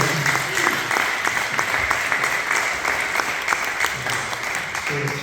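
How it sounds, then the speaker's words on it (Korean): A congregation at a regular presbytery meeting applauds the former moderator and officers, many hands clapping steadily in a hall, with faint voices and distinct individual claps standing out through the wash. "전임 노회장님과 임원들에게 박수"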